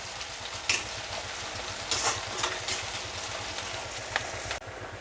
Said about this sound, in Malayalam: അതും കൂടി ഇട്ട് കൊടുത്തിട്ട് നന്നായി ഒന്ന് മിക്സ് ചെയ്യുന്നുണ്ട്